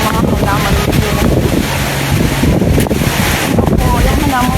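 Loud, gusting typhoon wind over a rooftop garden during Typhoon Ulysses buffets the microphone continuously, roaring with heavy low rumble while faint voices come through underneath.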